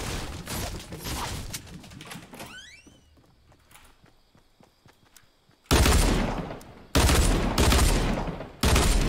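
Rapid bursts of gunfire in the video game Fortnite crackle loudly, with a quieter stretch of scattered shots and mechanical clicks between them.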